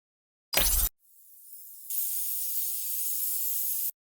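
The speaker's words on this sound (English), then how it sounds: "And that fizz layer will work nicely." A fizzing layer for a sparkly ribbon sound effect: a short burst of crackle, then a thin high hiss that widens into a bright, steady sizzling spray lasting a few seconds before cutting off cleanly.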